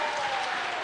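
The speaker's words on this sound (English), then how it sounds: "another round of applause for all of our contestants" A brief burst of sustained applause from a lip sync battle audience for the contestants, even and loud throughout.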